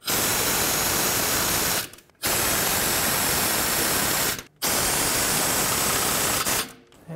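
A pneumatic or powered ratchet drives alternator mounting bolts on a 2008-2010 Ford F-250 6.4L diesel, a loud continuous buzzing whir that runs in long stretches with two brief pauses and trails off at the end.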